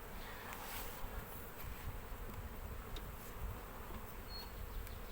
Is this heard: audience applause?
no